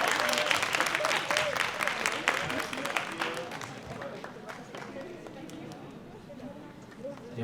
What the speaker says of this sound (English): Et on applaudit une dernière fois bien fort.